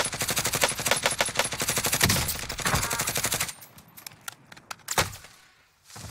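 Rapid automatic gunfire in the Call of Duty Warzone battle royale, loud sustained bursts for several seconds, then thinning to scattered single shots with brief gaps and a final sharp crack.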